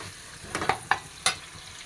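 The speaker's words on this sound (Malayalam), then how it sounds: "സവാള കട്ട് ചെയ്തിട്ട് കൊടുത്തു സവാള നന്നായിട്ടൊന്ന് വഴറ്റിയെടുക്കാം" Sliced onion sautéed in a pan with fennel seeds. A brief low sizzle carries three or four quick spatula scrapes and taps close by.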